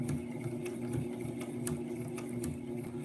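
Sewing machine stitching at a steady slow pace under foot-pedal control, a close, continuous mechanical whir with a regular needle-clack rhythm and no speech.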